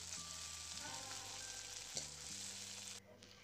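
Ginger-garlic paste fries with onions in hot oil in a wok, giving a steady close-up sizzle with occasional stirring scrapes, while soft background music plays underneath.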